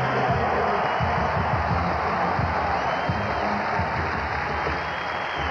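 A college football stadium crowd at a 1990 Arizona at USC homecoming game applauds an injured player, a loud, steady roar of clapping from a large, distant crowd, with a broadcaster talking over it.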